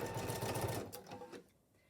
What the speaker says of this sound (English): the next stitching I'm doing stitch number 3, which would be marking a placement line for my actual fabric piece